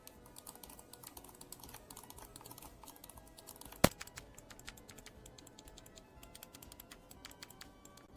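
Gaming controller buttons for PC and Xbox click in quick, light, irregular taps close to the mic, one sharper louder click standing out midway, with no talking.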